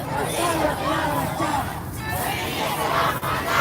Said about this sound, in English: So you can see there's a nice little crowd.